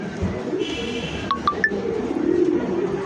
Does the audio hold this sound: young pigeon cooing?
yes